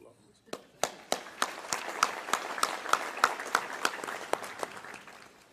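A luncheon audience at a Chamber of Commerce local government event breaks into a round of applause, starting with scattered claps that build into steady, fairly close clapping with some voices mixed in.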